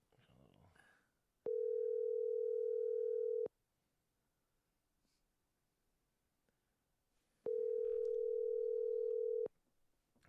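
Two loud, steady electronic phone tones, each about two seconds long, separated by a quiet gap with faint room noise, precede an automated voicemail message.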